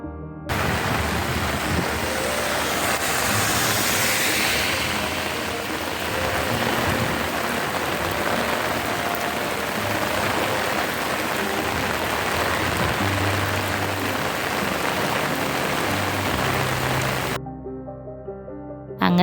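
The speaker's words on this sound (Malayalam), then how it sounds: "പെട്ടെന്ന് ക്ലൈമറ്റ് ചേഞ്ച് ആയി നല്ല മഴ വന്നു" Heavy rain pours steadily in an outdoor evening setting in Kasaragod, a dense continuous hiss that stays loud and even before stopping abruptly near the end.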